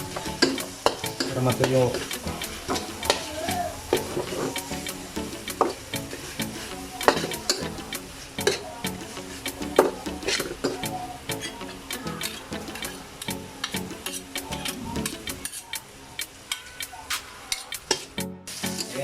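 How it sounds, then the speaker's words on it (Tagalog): Canned tuna sisig sizzles and fries in a pan while being stirred steadily, with continuous crackling and scraping under a brief spoken phrase. "Tapos haluin lang ang haluin."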